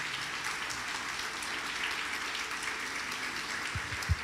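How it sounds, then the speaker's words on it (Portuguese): A church congregation claps together in praise, a steady wash of hand-clapping throughout with no voices, a couple of sharper claps near the end. "Vamos aplaudir o nosso Deus."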